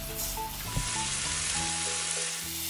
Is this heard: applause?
no